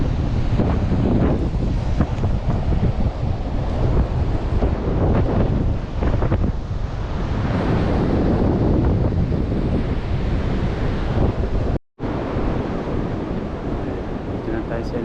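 Strong, cold wind buffeting the microphone in a loud, constant roar near a bridge, with surf-like rumbling throughout and a brief dropout near the end.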